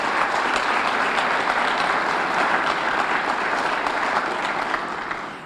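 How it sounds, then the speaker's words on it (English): An awards-night audience gives the Dave Cowens Award candidates a full, steady round of applause, dense and even clapping that tapers off slightly in the last second. "How about a nice round of applause for all of them tonight?"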